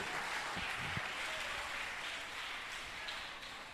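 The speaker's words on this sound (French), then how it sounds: "Il faut applaudir pour mon papa, s'il vous plaît." An audience at a church kids' dance event claps steadily, with dense continuous applause filling the whole stretch at moderate volume.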